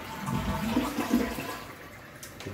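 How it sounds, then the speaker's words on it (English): A household toilet flushes after its flapper valve has been replaced, a close, steady rush and gurgle of draining water lasting a couple of seconds before settling. "we'll give it one last flush to make sure everything's fine"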